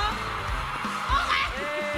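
A crowd at a Christmas party gift exchange shouts and cheers in a dense, continuous wash of excited voices and whoops, loud and close throughout the short burst.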